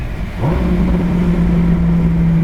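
A Ferrari with a gated manual gearbox blips its engine during a heel-toe downshift, a sharp rev rise followed by a steady, loud, close drone, no talking.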